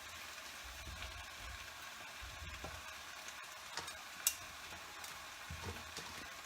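Chicken pieces for Basque chicken sizzle and fry steadily in a pan, a continuous crackling hiss with occasional sharper pops and a brief bright click, fairly faint and with no voices.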